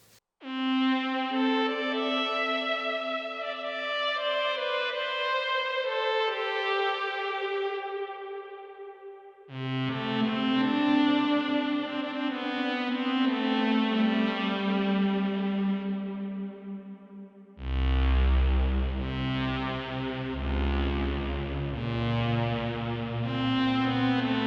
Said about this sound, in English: Right now I'm using the onboard reverb effect,